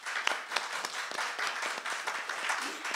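A concert audience at a Hindustani classical vocal recital applauds an artist: steady, dense clapping from many hands, even and sustained throughout with no talk.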